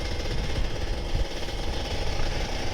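A Kawasaki Ninja RR 150 two-stroke motorcycle with rough running at low RPM idles close by, giving a steady, buzzing, rattly drone with no talk over it.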